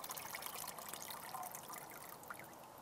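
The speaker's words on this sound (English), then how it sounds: "Okay, now you pour your water off." Water trickles and pours off a Pyramid Pro gold pan holding gravel in a soft, continuous wash that stays faint and steady, with no talking.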